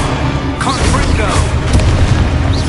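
The Confringo blasting spell in Hogwarts Legacy on PS4 sets off loud, rumbling booms that crash and roll continuously, with voices shouting amid the blasts.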